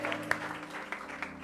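A church congregation claps in a brief burst of applause at a Hindi-language worship service, with soft sharp hand claps spread across a moderately distant room.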